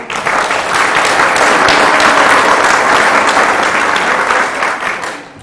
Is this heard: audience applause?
yes